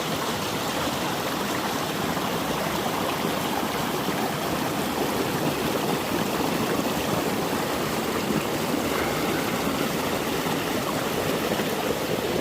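Mountain stream rushing along a hiking trail in the White Mountains of New Hampshire, a steady, loud, broadband wash of flowing water that continues unbroken throughout with no voices.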